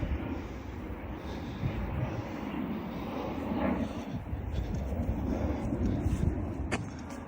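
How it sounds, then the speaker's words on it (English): A private jet departing overhead along the River Lea valley makes a broad, steady roar that swells slightly toward the middle and end, moderately distant under outdoor ambience with no talk. "There you go, private jet on its way out."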